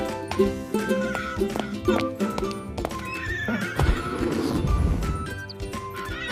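A horse neighs loudly over steady clip-clopping hooves, with a tuneful musical backing running throughout.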